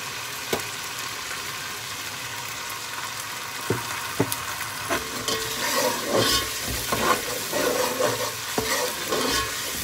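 Whole spices (cinnamon, cardamom, cloves and black pepper) frying in hot oil, making a steady close sizzle broken by stirring scrapes and small clinks against the pan, continuous and with no speech.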